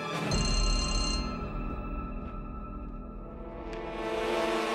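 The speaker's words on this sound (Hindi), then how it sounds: "त्रिवेदी जी, क्या बात है, आज सुबह सुबह आपने फोन किया?" A telephone rings briefly at the start, then quickly fades into a dense, loud background of music and ambient sound.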